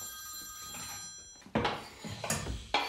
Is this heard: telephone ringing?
yes